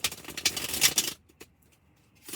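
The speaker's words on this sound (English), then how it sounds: "I need to remember to not talk while I'm shuffling the cards" Tarot cards being shuffled: a dense, rapid riffling patter fills the first second, then gives way to near-silence with a couple of soft isolated clicks.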